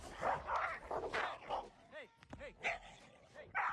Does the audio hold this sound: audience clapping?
no